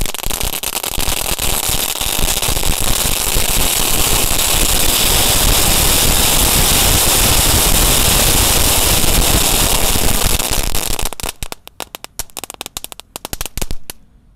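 A long, fast string of firecrackers goes off during a Ramadan night, a dense crackling roar of rapid bangs for about eleven seconds, close and loud, followed by scattered last pops before it dies out.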